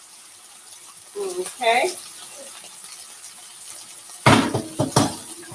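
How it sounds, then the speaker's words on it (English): Pasta water poured off into a kitchen sink, a short gush of running water and clattering pot against metal near the end, with a brief voice speaking earlier. "I'm just draining my pasta."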